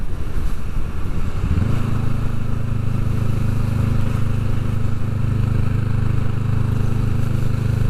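A motorcycle engine drones steadily while riding on a sub-freezing day, its pitch rising and then holding at cruising speed, with heavy wind rush over the rider's microphone throughout.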